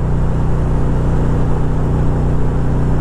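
A 2012 Can-Am Spyder RT-S engine hums loud and steady while riding, a continuous mid-pitched drone with a faint rhythmic pulse and no distinct break marking the gear shift.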